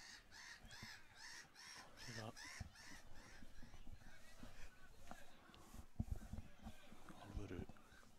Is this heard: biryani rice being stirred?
no